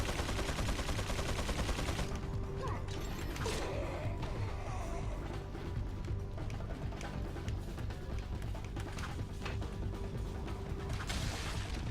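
Gunfire in Resident Evil 4, a dense spell of shots and mechanical clatter amid game noise, with a few sharper reports standing out over a steady background.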